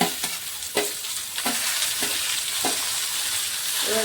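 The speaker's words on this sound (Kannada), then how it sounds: "ಇವಾಗ ಚೆನ್ನಾಗಿ ಇದನ್ನು ನಾನು ಫ್ರೈ ಮಾಡ್ತೀನಿ." Tomatoes frying in a pan for a dhaba-style egg gravy, a continuous close sizzle broken by regular stirring scrapes about every half second, no voices.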